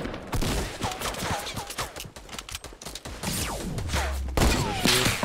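Sniper shots and other gunfire crack through a Fortnite match, a fusillade of sharp reports spread over several seconds, some close and loud, others echoing at a distance.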